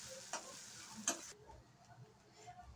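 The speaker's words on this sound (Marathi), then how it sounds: "पोहे सर्व आपण मिक्स करून घेऊया व्यवस्थित।" Poha is stirred and mixed in a pan with a spoon, giving a few soft scraping strokes over a faint sizzle, close and quiet, with no talk.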